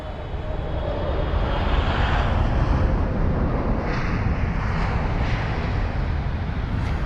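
Saudi Airlines Boeing 777-300ER with dirty flaps landing at London Heathrow after a flight from Riyadh, a steady loud jet engine roar with broad rumble holding throughout, no talking.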